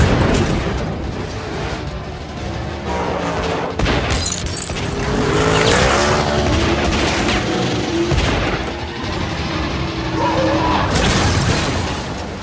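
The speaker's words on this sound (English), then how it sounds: "Brian crashes his car after taking fire" Movie action scene of a car crashing under gunfire, with dense bursts of shots, booming impacts and shattering debris over a loud, busy soundtrack, with some voices mixed in.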